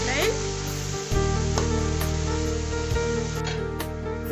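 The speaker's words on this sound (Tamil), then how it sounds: "1/2 கப் தேங்காய் பால், இதெல்லாத்தையும் ஊற்றி நல்லா கொதிக்க விடுங்க" Coconut milk fish curry with stingray bubbling in a pan, a steady loud sizzle and simmer with faint stirring clinks throughout.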